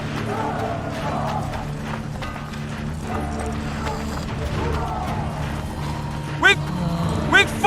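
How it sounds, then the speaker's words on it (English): Horse in the video game The Witcher 2, hooves clip-clopping steadily beneath a busy battle scene while voices talk over it, with a couple of sharp effects near the end. "Look at that horse, son. He's all set."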